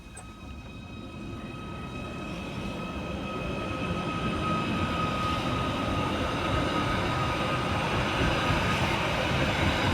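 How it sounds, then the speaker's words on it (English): A Merseyrail class 777 electric train departs Maghull North station, its rumble building steadily from moderate to loud with a sustained motor whine and rail noise over ten seconds. "Next out to depart is 777-051, working the 10:04 Merseyrail service from Hunts Cross through to Ormskirk."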